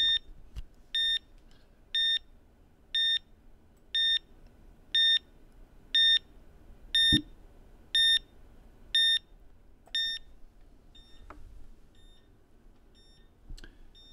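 Electronic alarm bell from a 1981 Nintendo Game and Watch Lion handheld, ringing as a run of about ten short, evenly spaced, loud high beeps close by, roughly one per second, then stopping, with faint handling noise between.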